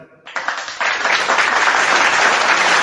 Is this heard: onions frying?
no